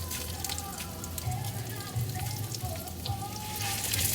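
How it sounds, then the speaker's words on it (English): Cloves, cumin and fennel sautéing in a hot pan, giving a steady close sizzle and crackle throughout, with a few faint stirring knocks and no speech. "give it a saute, and then add in our fennel"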